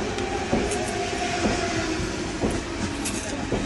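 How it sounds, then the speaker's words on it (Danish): A train rolls into a station with a steady rumble and rhythmic clickety-clack of wheels over rail joints, heard close and fairly loud, with faint squeals as it slows. "Lige nu er toget kommet."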